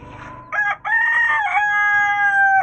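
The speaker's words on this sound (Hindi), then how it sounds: "वो हमारा मुर्गा" A rooster crows loud and close, a single long cock-a-doodle-doo with a short first note and a long held call, on a rooftop where chicks have been let out.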